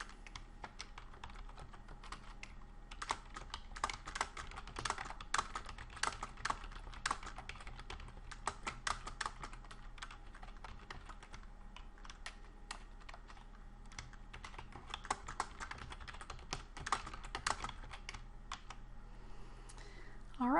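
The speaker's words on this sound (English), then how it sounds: "So I'm going to go ahead and start typing my message." Someone types a message on a computer keyboard, a quiet continuous patter of key presses with irregular rhythm and small pauses, close but soft.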